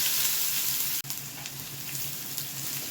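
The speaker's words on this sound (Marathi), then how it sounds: "कांदा इथं आपल्याला थोडासा असा गुलाबी कलर येईपर्यंत परतवायचा आहे" Cumin seeds and chopped onion sizzle steadily in oil left over from frying okra, a dense, continuous hiss of frying with a brief dip midway and no talking.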